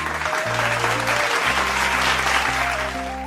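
Audience applause at a stage show, dense steady clapping from a crowd heard close, with a sustained musical tone playing underneath.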